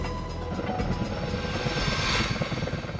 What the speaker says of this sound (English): The heli crane, with its supporting B-3 helicopter, is busy making daily runs across the mountains